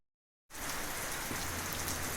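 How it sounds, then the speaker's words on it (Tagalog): Steady rain pours down on a hiking trail to Lake Holon in T'boli, South Cotabato, Philippines, starting abruptly and then hissing evenly and close. "Rain, rain, go away."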